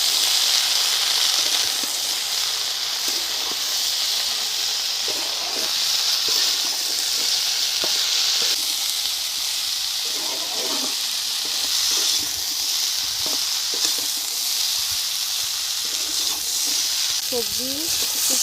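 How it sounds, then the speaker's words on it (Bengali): Vegetables and dried fish fry in a pan with turmeric, salt and chili powder, a continuous hissing sizzle with occasional stirring scrapes, steady and close, with faint voice-like sounds in places. "সবজি খুব সুন্দর করে ভাজা হয়ে গেছে"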